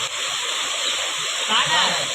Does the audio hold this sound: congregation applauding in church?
no